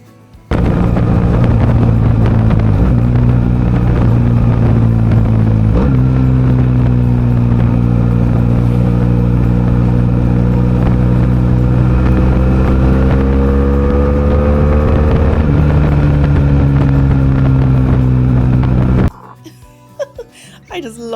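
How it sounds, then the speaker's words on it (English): A steady, loud motorcycle engine drones at idle and gently varies in pitch for most of the clip, then cuts off near the end. "I just love the sound of that engine."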